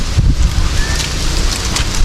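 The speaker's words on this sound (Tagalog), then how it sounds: "lumakas yung hangin ah" Strong wind blows hard and steadily through an abandoned cemetery, a loud, close buffeting roar with gusty swells that batter the microphone throughout, with no voices.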